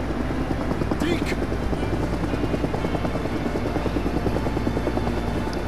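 A helicopter in the video game Days Gone drones loudly and steadily, its rotor chop pulsing throughout with voices from the game talking over it.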